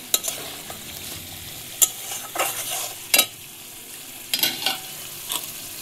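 Spice paste sizzles in hot oil while being stirred for a village-style fish roe and spinach dish, with a steady close frying hiss and sharp scraping strokes of the spoon every second or so.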